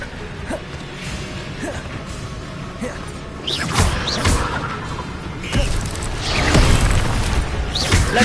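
Fiery Incendio spell casts in Hogwarts Legacy, several whooshing bursts and booming blasts layered over continuous game ambience and combat noise, close and fairly loud.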